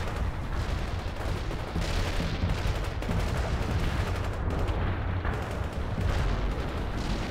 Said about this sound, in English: Well, I'm not hugely impressed with this artillery strike.